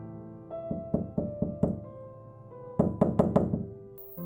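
A hand knocks on a bedroom door in a drama scene: a run of single raps, then after a short pause a faster, louder cluster of four or five knocks, close and alone.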